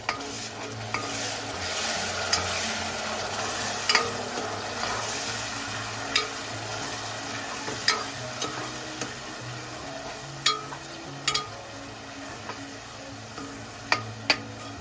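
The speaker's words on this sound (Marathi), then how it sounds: "आता आपण इथे 2 टोमॅटो प्युरी बनवलेली आहे, ती आपण टाकलेली आहे आता इथे आणि मस्त तेल सुटेपर्यंत आपल्याला ते परतवत राहायचे." Tomato puree sautéing in oil for Mumbai-style chicken kheema, a steady close sizzle with a spoon stirring and scraping the pan, and sharp clicks and taps of metal at irregular intervals throughout.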